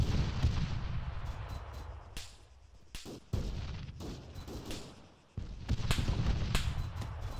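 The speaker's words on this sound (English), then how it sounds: "Are we taking fire right now?" Incoming fire in the military game Task Force Mamba: a dense run of gunshots and heavy artillery-like impacts, loud and close, with sharp cracks and brief gaps before the barrage resumes.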